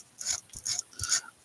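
Craft pieces are hand-sanded in three short, soft rasping strokes, quiet and close, with brief pauses between them.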